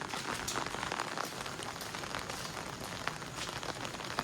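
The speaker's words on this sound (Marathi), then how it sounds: "बाहेर आहे ना पाऊस चालू आहे" Rain falling outside, a faint, steady patter of drops on surfaces with scattered sharper taps, continuous and even, no talking.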